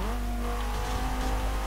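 An Audi race car in Forza Motorsport 7 drives on a circuit, its engine holding a steady, fairly loud drone with sustained harmonic tones and slight rises, heard alone without talk.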